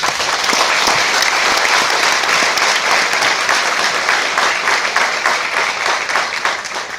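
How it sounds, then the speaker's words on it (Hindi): Sustained audience applause from a large hall crowd at a corporate business seminar, dense and loud throughout with steady clapping and no pauses. "यस, ताली बजा सकते हो।"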